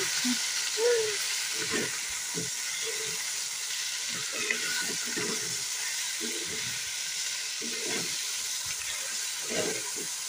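Chicken curry frying in a pan, a continuous soft sizzle and hiss with intermittent stirring scrapes and clinks scattered throughout, heard up close with no talking.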